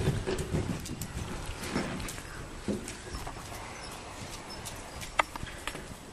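Horse hooves clop softly on an arena surface during a riding lesson, an irregular series of muffled thuds at moderate distance with a few sharper knocks toward the end.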